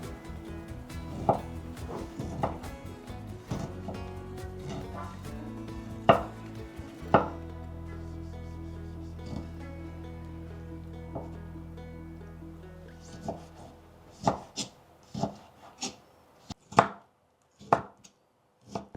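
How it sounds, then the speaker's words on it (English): Two fresh tomatoes are diced into small pieces with a knife on a cutting board, giving a string of sharp, close chops over steady background music, with the chops coming faster and more isolated near the end. "Then dice 2 fresh tomatoes into really small pieces."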